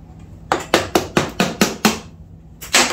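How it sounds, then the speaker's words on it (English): A hammer taps on the engine cover of a Suzuki LT250R ATV during a rebuild after a broken piston, with seven sharp close metallic strikes in a steady rhythm, a pause, then one more. "let me get a hammer, peck over that a little bit"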